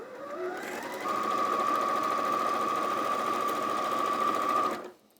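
A Sewing Street 560 machine runs continuously while stitching a quilt block of a triangle on a trapezium, its close, steady motor hum rising slightly before holding, then stopping abruptly near the end.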